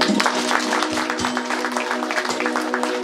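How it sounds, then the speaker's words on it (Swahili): A church congregation applauds, with sustained clapping from many hands close by and a steady low hum behind it. "Tupie Yesu makofi."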